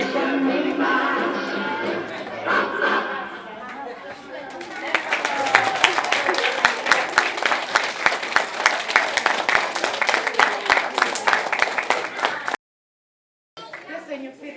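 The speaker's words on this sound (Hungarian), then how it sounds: "Köszönjük szépen a sok-sok biztató tapsot" An audience applauds at a kindergarten party. A murmur of voices comes first, then dense, lively clapping builds and carries on for several seconds before cutting off abruptly.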